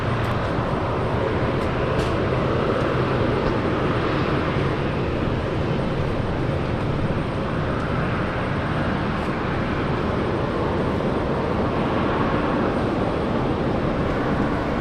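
Velocity flight 771 departs Brisbane International Airport with a steady, broad jet roar that holds loud and even throughout, heard alone without voices.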